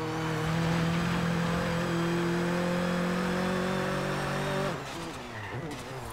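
A car engine in the racing game Forza Horizon 3 drones loudly and steadily with rising pitch as it accelerates, then an automatic gear shift drops the tone near the end before it climbs again.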